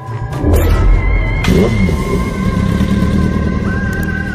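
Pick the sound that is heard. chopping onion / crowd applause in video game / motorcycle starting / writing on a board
motorcycle starting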